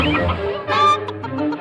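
A cartoon rooster in a comic fable clucks in one brief, bright burst near the middle. Low background tones sit underneath.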